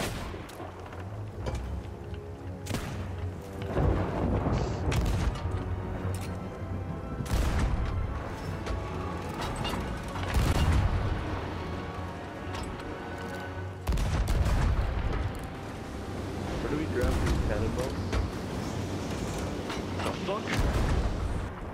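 Repeated heavy cannon blasts and booming impacts in a Sea of Thieves battle against the Kraken, loud and continuous over about twenty seconds, with players talking over the gunfire.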